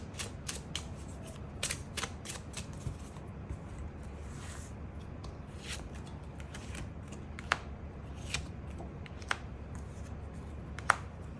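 Tarot cards are shuffled and drawn by hand in a quiet room, giving soft rustling punctuated by sharp, irregular card snaps and flicks; the sounds are close and faint, with no speech.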